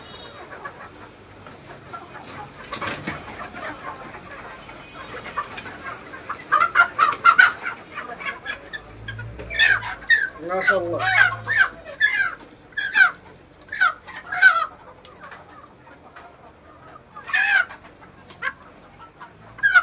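Native desi rooster and chickens at a small organic farm, repeated nearby clucks and squawks in irregular bursts over a low background, with a brief spoken exclamation.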